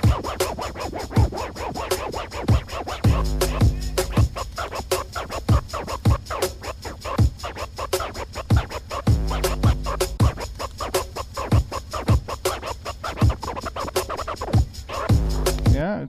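A record on a turntable is scratched in rhythmic, funky patterns of quick forward-and-back strokes with crossfader clicks, the three-clicker technique, cutting the sound into choppy bursts over a steady beat.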